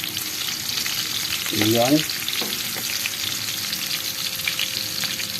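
Chopped onions sizzle steadily in hot oil in a pan while adobo is being cooked. The frying hiss stays close and continuous, with a stirring scrape and a short word spoken partway through.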